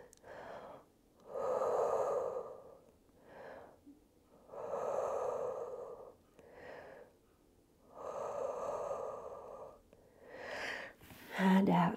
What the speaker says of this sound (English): Three breaths here.